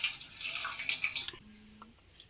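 Prawns being washed in water produce about a second of splashing and sloshing, followed by a quieter pause with a faint drip and small knocks.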